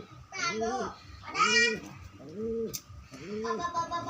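Pigeons coo close by in four soft, evenly spaced rounds, each a throaty rolling call, with brief quiet gaps between.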